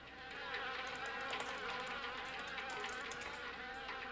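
A dense, steady swarm of wasps buzzes continuously from a wasp nest sealing an icebox in the horror video game Harvester, a loud droning hum with no pauses.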